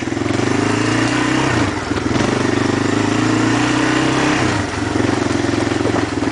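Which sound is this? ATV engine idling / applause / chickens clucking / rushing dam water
ATV engine idling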